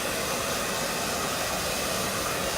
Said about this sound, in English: Just power dry.